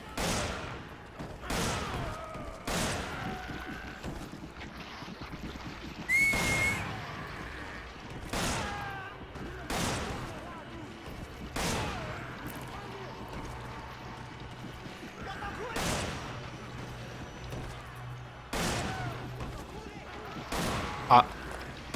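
Gunshots in the action game Resident Evil 5, single reports spaced a few seconds apart, each sharp and fairly loud, with someone talking between and over the shots.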